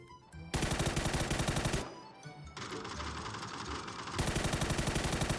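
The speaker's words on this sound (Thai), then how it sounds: "ยิงรถเร็ว เฮ้ยยิงยิงยิงยิง" Rapid automatic gunfire in the PUBG video game, aimed at a vehicle, comes in loud sustained bursts with a short lull in the middle before the shooting resumes.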